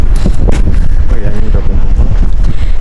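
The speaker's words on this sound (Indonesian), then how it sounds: "Wih, angin di sini." Strong wind buffets a microphone on a hilltop near tea plantations, a loud, steady roaring rumble with gusty bursts throughout.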